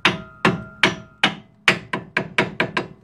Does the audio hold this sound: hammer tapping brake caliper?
yes